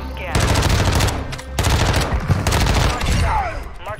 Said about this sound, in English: I hear you shooting, baby